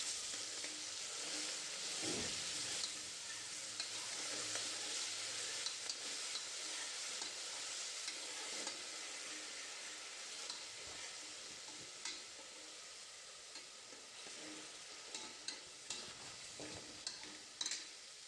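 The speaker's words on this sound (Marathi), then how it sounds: "थोडं तेलामध्ये चांगलं परतून घेऊया." Ground masala paste sautés in oil for a pigeon-pea masale bhaat, a faint continuous sizzle broken by soft, irregular stirring scrapes and taps, growing busier toward the end.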